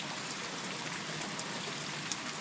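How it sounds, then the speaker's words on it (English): Hail falls in a dense, even patter during a hailstorm, a continuous bright hiss with occasional sharper ticks of stones striking, no voices. "That's a big chunk of hail."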